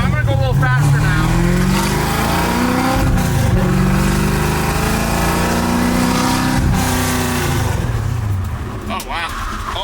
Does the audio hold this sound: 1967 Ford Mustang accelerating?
yes